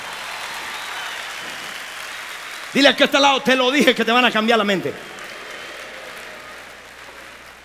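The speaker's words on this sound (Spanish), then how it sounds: "Dale un aplauso, no te quedes ahí con la boca abierta." Church congregation applauding steadily throughout, a dense wash of clapping beneath a preacher's loud, animated speaking that bursts in midway and then drops back out, leaving the applause alone.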